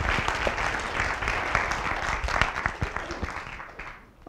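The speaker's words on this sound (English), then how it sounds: "Round of applause for Liz." A symposium audience applauds a speaker in a hall with steady, moderately loud clapping that thins out and fades over a few seconds.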